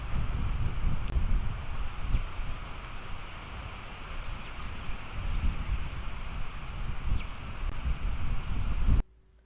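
Blustery wind buffets the microphone in low rumbling gusts, steady and close, before cutting off abruptly at the end.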